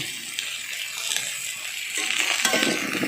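A spatula scrapes and stirs through a pan of Bengali pabda fish curry with potato and eggplant just after turmeric and salt go in, giving close, continuous scraping with a faint sizzle that grows busier toward the end.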